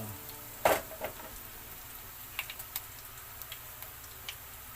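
Chopped onions cook in a pan for green mango with bagoong alamang, giving off sparse, quiet crackles and ticking pops against a low background hush, with no voices.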